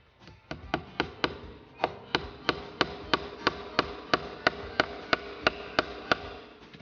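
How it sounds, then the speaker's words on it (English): Steady hammering of a tack into a garden fence outdoors: about seventeen sharp, evenly spaced metallic taps, close and clear, with no talking. "Okay, I think I'm going to hammer here."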